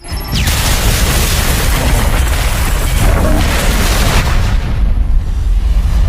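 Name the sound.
bomb explosion in a film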